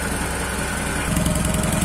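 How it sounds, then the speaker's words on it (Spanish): Bajaj Discover 110 motorcycle engine running steadily close by, with the exhaust muffler roaring louder and rougher for the last part; no talking. "se oye diferente, ya no se oye el motor ahí todo tapado, ahogado"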